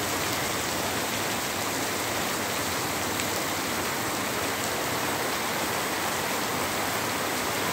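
Dense, steady downpour hissing continuously across the whole stretch, loud and close, with no voices.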